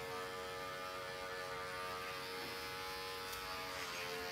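An electric hair clipper with an open blade hums steadily during a short men's fade haircut, a constant, faint electric buzz that carries through the whole stretch with no talk.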